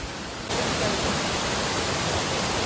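Chitrabi waterfall at Kabbinale cuts in abruptly as a loud, steady broadband rush of falling water that holds unchanged to the end.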